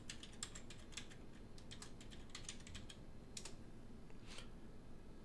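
A folder name is typed on a computer keyboard in a quick, steady patter of faint key clicks with a few brief pauses, all over a low background hiss.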